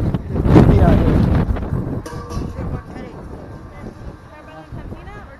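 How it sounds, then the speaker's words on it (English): Gusty beach wind buffets the microphone in loud rumbling bursts that ease off, with voices talking faintly underneath. "It is windy out here."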